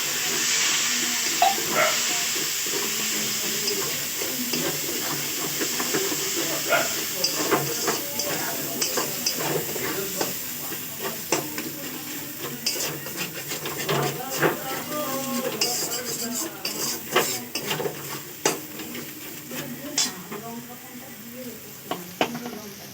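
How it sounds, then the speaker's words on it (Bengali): Fish fries with turmeric and a splash of water in a pan, a steady sizzle under repeated stirring and clattering utensil hits on metal that grow busier and sharper toward the end; a voice speaks intermittently. "সামান্য আমি হলুদ দিচ্ছি সামান্য জল দিয়ে মাছটাকে আমি ভালো করে কষাবো"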